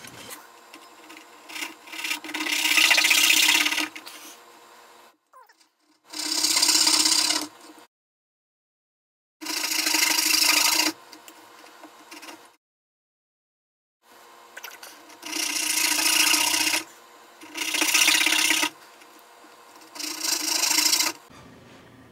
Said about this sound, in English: Now we're going to fret saw, get them close,